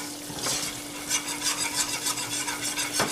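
A whisk scrapes and stirs a roux of oil and whole wheat flour in a pan, making a soft, steady rasping with faint sizzling and a few clearer strokes, close and without talk.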